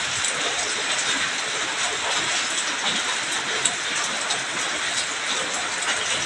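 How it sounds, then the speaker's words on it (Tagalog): Steady rain falls continuously as a dense, even hiss at moderate distance, without breaks and with no one talking. "Maulan, bali yung ulan na to kahapon pa to eh."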